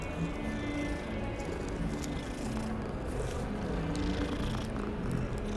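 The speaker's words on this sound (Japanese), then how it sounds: "あ、にゃんにゃんいる。" A cat purrs in a steady, close rumbling drone that continues throughout, with no distinct meows.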